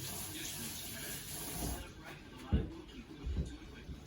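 Tap water runs steadily into a kitchen sink while hands are washed during chicken tortellini preparation, a soft continuous splash with a few louder rinsing splashes near the end.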